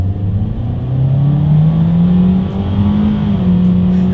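2022 Hyundai Kona accelerating hard from a standstill, its engine droning loud and steady inside the cabin as the pitch climbs gradually through the gear, with road rumble underneath.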